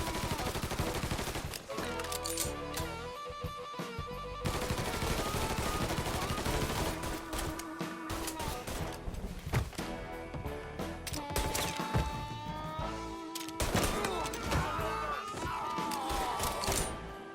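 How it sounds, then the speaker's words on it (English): Continuous loud gunfire with rapid volleys and a dense, cluttered mix of shots and impacts in the video game Mafia III: Definitive Edition, with shouting voices at times. "Fucker won't stop shooting!"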